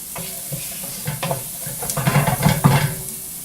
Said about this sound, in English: So we're going to put our onions in there first.